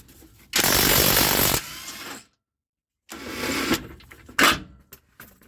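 An impact or power tool working loose the rear suspension toe-link bolts on a 2005 Lexus RX330, two loud sustained bursts of buzzing rattle separated by a silent gap, then a shorter sharp burst, close up with no talk.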